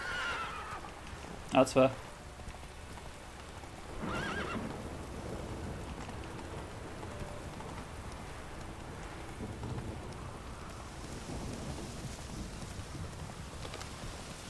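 Roach, the horse in The Witcher 3, gallops with a soft hoofbeat patter under steady rain, brief whinny-like cries early on and low rumbles, while someone talks over the game sound.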